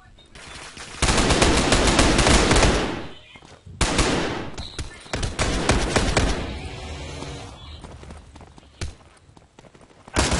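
Loud rapid gunfire rattles out in a shooting video game called Final Bullet. Heavy bursts of automatic fire come in waves with short pauses between them, and excited voices can be heard between the volleys.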